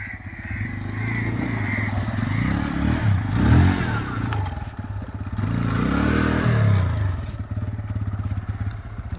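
Motorcycle ridden straight across a river, a steady close engine drone with rougher revving swells and clattering splashes midway, continuous throughout.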